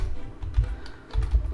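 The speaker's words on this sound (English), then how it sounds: "So when you type" Typing on a computer keyboard at a desk, a quick run of close, fairly loud key clicks in uneven bursts, with no voices.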